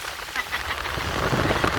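Light rain falls steadily over rice paddies in the rainy season with mountains nearby, a continuous close patter with frogs croaking faintly in the mix.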